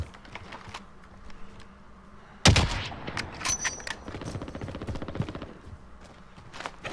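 Gunfire in the Warzone video game, a sudden loud burst of rapid automatic shots followed by scattered sharp cracks and continuing bursts, with keyboard-like clicking in the background.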